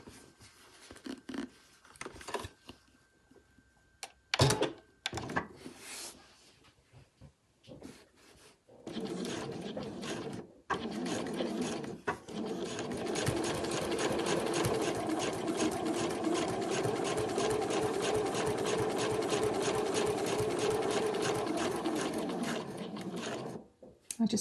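Domestic sewing machine stitching the card pockets of a fabric travel wallet, stopping to backstitch at the top of a pocket; a few short bursts at first, then a steady, close, continuous whirring run with no talk.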